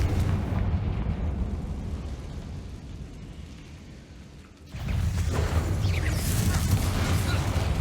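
Bombarda and Confringo spell explosions in Hogwarts Legacy, loud rumbling blasts that ease into a lower roar, then a sudden heavy burst and renewed crackling booms close up.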